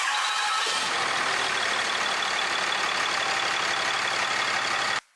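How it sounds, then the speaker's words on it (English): A 6.7 Cummins diesel truck engine, fitted with a new intake horn, catches and settles into a loud, steady close-up idle with a dense rumbling clatter that stops abruptly at the end. "We're going to crank it up in a second."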